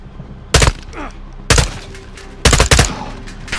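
Bursts of automatic gunfire from the Call of Duty Modern Warfare II video game, three loud, close rapid volleys separated by about a second of quieter gameplay sounds.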